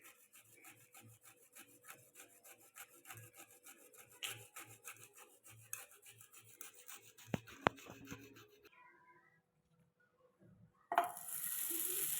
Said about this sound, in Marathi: आता हे जायफळ मी खिसून घेते